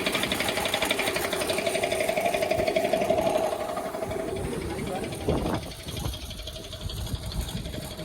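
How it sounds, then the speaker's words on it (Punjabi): A workshop machine runs steadily at a mechanic's shop, a continuous mechanical whir with a faint humming tone, with people talking nearby and a brief knock near the end. "ਆ ਚੱਲੀ ਜਾਂਦੀ ਮਸ਼ੀਨ"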